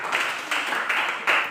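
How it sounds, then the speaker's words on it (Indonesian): A classroom of students claps in several short bursts, each swelling and fading, fairly close and moderately loud. "terima kasih tepuk tangan"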